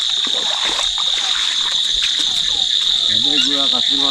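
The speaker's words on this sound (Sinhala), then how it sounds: "ගෙම්බෝ රැහැයියෝ" Frogs and crickets calling at night near water along a village waterway, a steady high insect trill throughout with croaking, bubbling frog calls rising loudly near the end.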